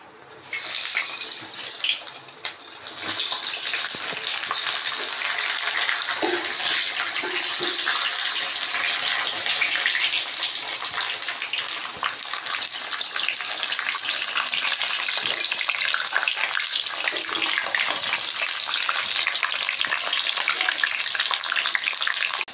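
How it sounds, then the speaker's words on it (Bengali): Masala-stuffed capsicum fries in a pan with a loud, dense, unbroken sizzle that starts abruptly and holds steady close by for over twenty seconds. "এখন তোমরা দেখো আমি কি করে এটাকে ভাজা করি"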